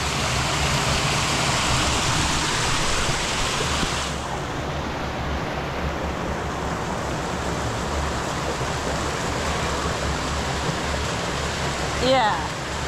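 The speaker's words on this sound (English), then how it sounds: "You can hear the sound of water." River water rushes steadily over stones in an African village stream, a dense continuous wash that stays loud and close throughout, with a slight drop after a few seconds.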